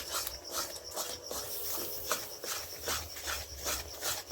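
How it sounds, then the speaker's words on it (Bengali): Sesame seeds stirred continuously in a pan while making til naru, a steady run of dry gritty scraping and rubbing strokes, close and fairly quiet, with no talk. "অনবরত এরকম নাড়তে হবে, না তো বসে যাবে।"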